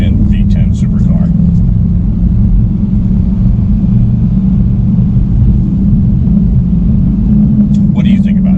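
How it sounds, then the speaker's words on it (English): An Audi R8 V10 RWD supercar in dynamic sport mode gives a steady, loud low engine rumble throughout, with brief bits of talk near the start and end. "you just flip it over to dynamic and pop it back into sport mode, and it becomes an extremely competent V10 supercar"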